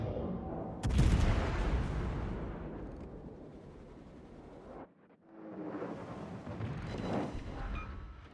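Heavy naval gunfire booms from a Japanese heavy cruiser, the Zao, in World of Warships: one sharp loud blast that rumbles away, a brief silence, then a second rolling volley of distant shots.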